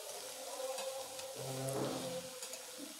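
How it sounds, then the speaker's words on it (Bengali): Spring onion greens frying in a pan over medium heat, with a steady close sizzle and a gentle stirring scrape partway through. "পেঁয়াজকলিগুলো দিয়ে হালকা হাতে মিডিয়াম আঁচে বেশ কিছুটা টাইম নিয়ে ভেজে নেব।"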